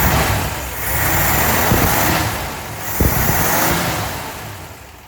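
1959 Ford Galaxie Town Sedan engine, running clean, rising in a couple of loud revving swells over a rough idle, recorded up close with no talking.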